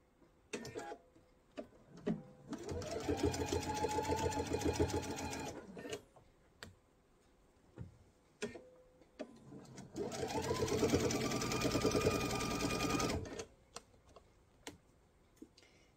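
Sewing machine edge stitching a mesh tote bag, two long steady runs of rapid mechanical whirring separated by a pause filled with small clicks and handling taps, close and clear.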